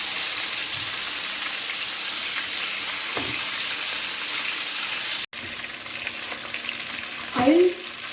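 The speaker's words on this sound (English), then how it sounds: "Now I am going to fry the fish." A salmon fillet sizzles steadily in a pan over a medium flame, a constant bright frying hiss with a couple of brief clatters from the pan or utensil, no voices present.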